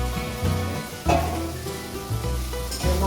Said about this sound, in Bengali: মশলাটা কষে এসছে, তেল ছেড়ে দিয়েছে